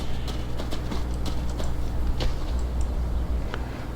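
Horse hooves clip-clop steadily in the video game Adios, an even run of close, moderately loud hoofbeats over a constant low rumble, with no talking.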